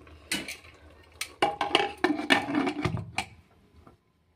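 Metal clatter of a cooking pot and its lid being handled and set in place on a home stove, a few sharp clanks and scrapes, close and moderately loud, with no talking.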